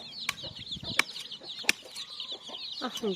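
Farmyard chickens cluck in short bursts from close by, with sharp loud accents and a steady high chirping of birds behind, no voices.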